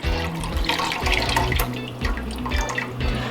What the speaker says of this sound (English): we're just gonna pour the rest of that off in there